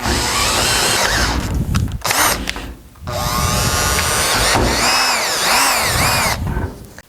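A power drill run at lower speed bores holes while fitting a racecar seat, its loud whine grinding steadily in long runs broken by brief pauses and shifts in pitch.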